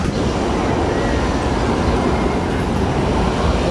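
A train passing through a train station, a steady dense low rumble holding at constant loudness throughout, close and continuous with no distinct clatter or horn.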